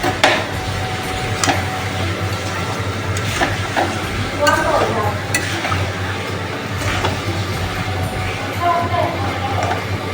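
Pork curry being stirred in a pot, with scattered scrapes and clinks of a utensil against the metal and a low simmering bubble underneath, while a voice talks intermittently nearby.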